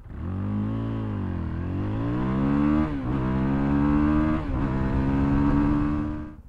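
A Fantic Caballero 500 scrambler motorcycle accelerates hard from a standstill, its single-cylinder engine rising in pitch through two quick gear changes, close, loud and continuous for several seconds before cutting off.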